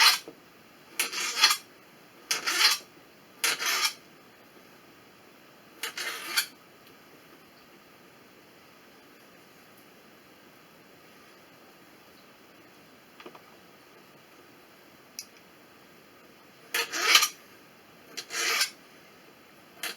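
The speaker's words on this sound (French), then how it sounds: "je vais couper mes 100 grammes de chorizo en rondelles" A knife rasps through chorizo on a board, slicing it into rounds in short bursts, three or four quick cuts, a pause, then two more slices.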